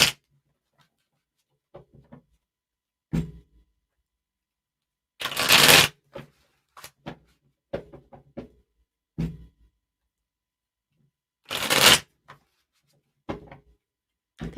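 Playing cards handled and shuffled during a card reading, several sharp riffling bursts and scattered soft clicks and taps with quiet gaps between them, close and fairly loud.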